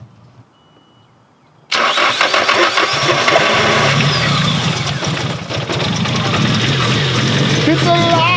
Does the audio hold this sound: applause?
no